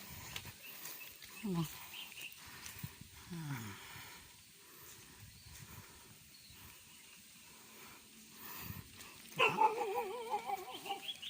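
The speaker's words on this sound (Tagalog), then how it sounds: "Nakaulat ako ng aso." A dog barks a few times in the distance at a private resort, short sharp yelps scattered among outdoor background noise and some faint voices.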